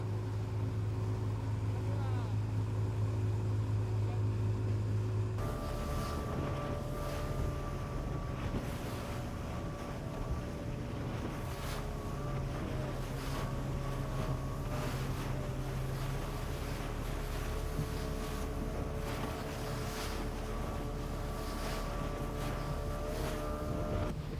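Speedboats crossing the Gulf of Tadjoura off Djibouti, a steady engine drone with wind buffeting the microphone and water noise, continuous and close throughout.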